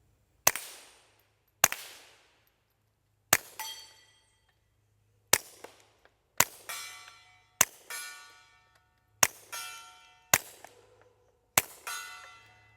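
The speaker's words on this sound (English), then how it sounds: "Man, this pistol is quiet with the suppressor." Twelve suppressed shots from a Walther PPQ M2 .22 LR pistol, each a sharp crack with a short ringing tail, fired at an uneven pace in quick pairs and singles over a faint outdoor hum, with no talking.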